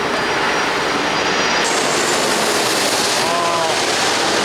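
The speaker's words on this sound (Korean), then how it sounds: "진짜 비행기가 자기 내 앞으로 온 것 같아요." An airplane flies low over houses beside the airport in Sinwol 3-dong, Seoul, making a loud, steady jet roar that fills the whole stretch without a break.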